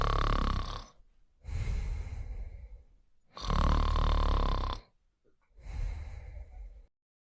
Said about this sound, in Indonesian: Snore artinya mengeluarkan suara bising saat tidur, terutama saat menarik dan membuang napas.